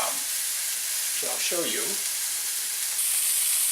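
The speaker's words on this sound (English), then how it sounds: "You do have to be careful when frying meat like this." Burger meat sears in a pan without oil, giving a broad, steady sizzling hiss at close range while someone speaks briefly over it.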